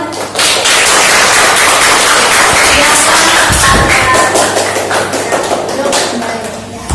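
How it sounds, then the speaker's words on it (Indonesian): A group of people clapping together in a classroom-style session after a group presentation, a dense, loud, steady patter of hands lasting the whole stretch, with a few voices mixed in. "Tepuk tangan."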